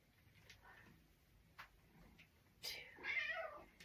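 A cat meows indoors, a single drawn-out call near the end following faint clicks and quiet room sounds.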